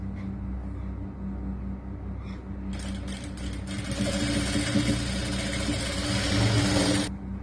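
A sewing machine stitches the lining fabric of a 4XL churidar top. Quiet handling comes first, then the motor runs in a steady, louder whir for several seconds before stopping abruptly.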